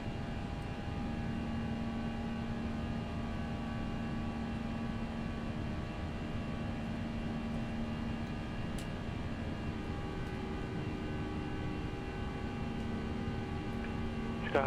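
An Airbus A320 airliner taking off in the X-Plane 11 flight simulator, its engines a steady, even drone with constant tonal hum held at one loudness throughout, with no pauses.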